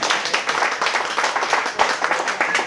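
An audience claps for a newly published poetry book at a reading in a Brooklyn home, a steady, dense patter of many hands that stays close and even throughout, with no voices over it.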